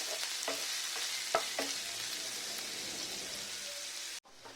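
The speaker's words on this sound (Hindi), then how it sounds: "हमें इसको भून लूंगी, ज्यादा नहीं भूनना है, मसाला थोड़ा सा ट्रांसपेरेंट हो जाए इससे ही इसको भूनना है" Masala sizzling as it is stir-fried in a pan while making egg sprouts, a steady close frying hiss with a few spoon scrapes and clicks, cutting off abruptly near the end.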